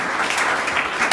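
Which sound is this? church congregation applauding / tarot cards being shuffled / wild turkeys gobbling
church congregation applauding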